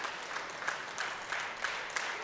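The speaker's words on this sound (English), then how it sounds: "People stand up, clapping, shouting, showing Milkins his support." An audience at a classic powerlifting competition claps steadily for a lifter, a dense wash of applause with faint crowd noise, with no clear shouting standing out.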